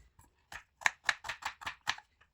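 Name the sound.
chopping onion, green chili and capsicum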